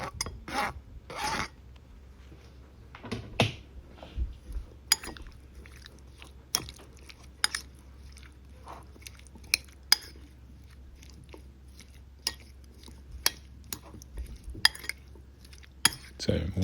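Prawn salad with tomatoes, cucumber and light mayonnaise being mixed in a bowl, with scattered sharp utensil clicks and taps against the bowl among soft wet rubbing, close and intermittent over a quiet background.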